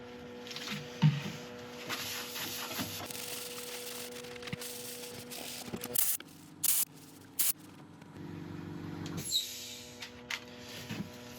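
Short bursts of compressed air blast abrasive paste out of a knot in a turned redwood (sequoia) piece, several sharp hissing puffs over a faint workshop hum, with no talking.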